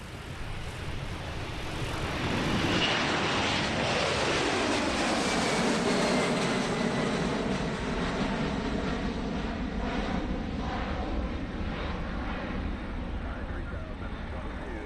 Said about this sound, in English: the KC-46A Pegasus. Based on the Boeing 767